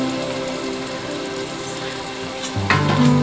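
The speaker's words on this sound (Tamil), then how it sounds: "தக்காளி போட்டு இதுவும் கொஞ்சம் நேரம் நல்லா வதங்கணுங்க." Tomatoes sauté in a pan for a goat curry, giving off a steady close-up sizzle and crackle. Near the end a louder clatter comes in, like a stir or a shift of the pan.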